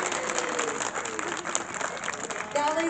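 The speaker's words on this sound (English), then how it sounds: "So let's give Lucy a big round of applause." Applause from an aquarium audience after an animal presentation, a dense wash of clapping at moderate level with faint voices mixed in.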